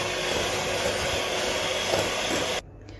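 An electric hand mixer whirs steadily while beating waffle batter, a loud continuous motor drone up close that cuts off abruptly near the end, no talk.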